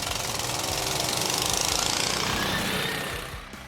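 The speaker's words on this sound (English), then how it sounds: "Surprisingly, the sled with 12 HP engine takes over the other snowmobiles." A homemade sled with a 12 HP engine races snowmobiles in a cross-country snow race, a loud rapid-firing engine drone with a throbbing beat that holds steady, then fades slightly as it passes.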